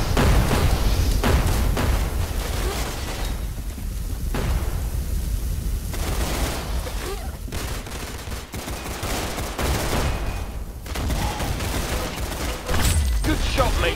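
Gunfire in the Roblox shooter Arsenal, sustained bursts of rapid shots and dense crackling volleys running nearly nonstop, loud and close.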